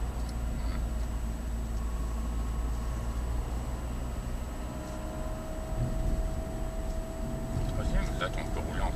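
A car rolls along steadily during a driving lesson, its engine hum and road noise forming a continuous, fairly close drone, with a faint whine rising late on.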